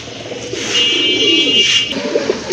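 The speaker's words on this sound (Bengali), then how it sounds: "বাম পাশেরটা মাদি কবুতর ডাকতেছে" A female pigeon calls up close in a single drawn-out coo lasting about two seconds, followed by a softer trailing note.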